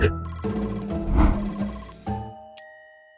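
A telephone rings in repeated electronic bursts, loud and close, then a click and a steady tone as the line connects.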